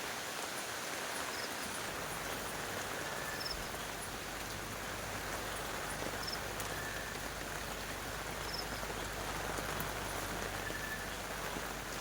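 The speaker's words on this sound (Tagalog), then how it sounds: "Umulan na po." Steady rain pours down continuously, a dense even hiss of drops striking surfaces nearby, with no talking.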